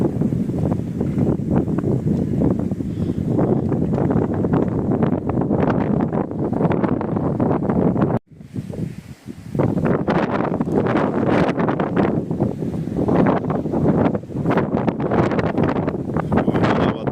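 Strong wind by Beyşehir Lake buffets the microphone in loud, continuous roaring gusts, briefly dropping out near the middle before surging back just as hard.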